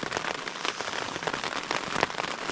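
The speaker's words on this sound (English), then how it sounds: "It is raining pretty hard now" Heavy rain drumming on a tent during solo bushcraft camping, a dense, steady patter of drops close by with sharper individual hits scattered throughout, loud and continuous with no voices.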